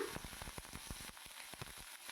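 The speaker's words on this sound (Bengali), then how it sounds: "কপিটা যে ভাপ দিয়ে তুলে রেখেছিলাম সেটাকে আমি ছেড়ে দিলাম তেলের মধ্যে" Steamed cauliflower pieces fry in hot oil in a pan, a quiet, close sizzle broken by dense crackles and small pops that keep coming throughout.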